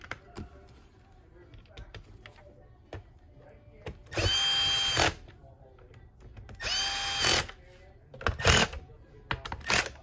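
A power drill drives screws into a Miele vacuum power head: two sustained whirring bursts of a couple of seconds each, then a short third burst, with quiet handling noises and someone talking between them.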